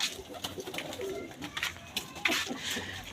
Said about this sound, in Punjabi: ਲੈ ਬਾਈ ਆਹ ਬੱਬੀ ਬਾਈ ਦੇ ਕਬੂਤਰ